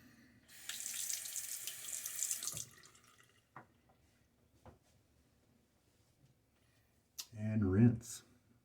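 Tap water runs into a sink for about two seconds while rinsing during a wet shave, followed by a few small clicks and knocks and then a second short, louder burst of running water.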